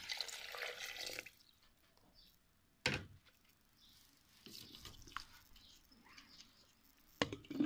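A brief splashing rush of water pouring into a glass, half filling it, then quiet with a sharp knock and scattered soft clinks.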